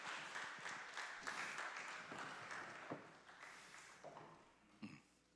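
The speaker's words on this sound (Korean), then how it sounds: "박수 한번 해줍시다." A church congregation at a Friday late-night prayer service breaks into applause that swells, then fades into scattered claps, faint and somewhat distant throughout.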